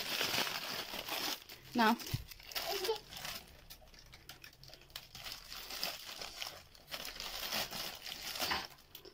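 A plastic packet of toy dinosaurs crinkles and rustles in bursts while being torn open at a child's birthday gift opening, under quiet intermittent talk including a voice.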